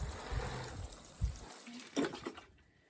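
Water from a garden hose nozzle, turned upward so it cascades lightly, falls onto freshly sown seeds in a suburban bed, producing a faint soft patter and splashing that comes and goes in short bursts.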